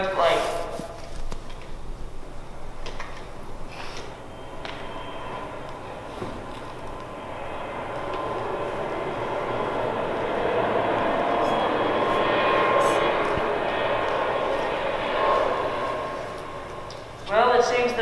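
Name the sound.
airplane engine sound effect in a skit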